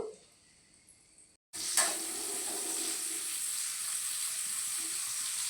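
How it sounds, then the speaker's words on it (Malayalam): Onions go into a hot pan for a stream-fish curry: a short quiet stretch, then a sudden loud, steady sizzle that holds without a break. "ഉള്ളി ഇട്ടു"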